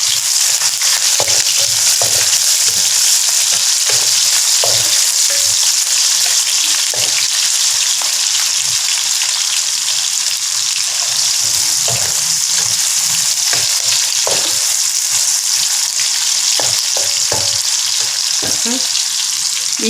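Onions and curry leaves hit hot oil for a Tamil-style stir-fried squid, giving a loud, continuous, close sizzle and crackle with occasional stirring clatter for the whole stretch, no talk over it.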